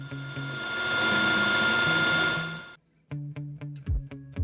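A milling machine's boring head cutting aluminium in a test pass, a steady loud machining drone with harmonic whine for nearly three seconds, then a brief pause and several sharp rhythmic mechanical knocks and bursts close by.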